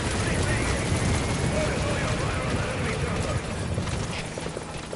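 A helicopter in Metal Gear Solid 5 gives a continuous, dense rotor roar with a rapid chopping texture. It holds steady and fairly loud, easing slightly near the end, with speech partly mixed in.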